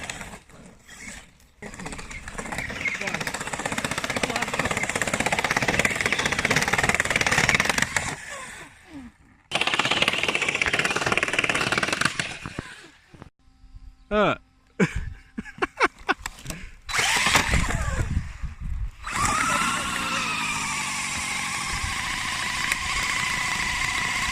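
Arrma Granite 3s RC car running hard, an electric motor whining in loud bursts with gaps and clattering impacts, rising and falling as it races and tips up on two wheels.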